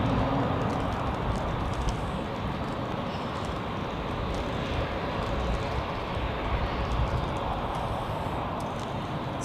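A Swiss Airbus A350 approaches Zurich Airport in bad weather, a steady broad distant roar of jet engines that holds evenly throughout, with no talking.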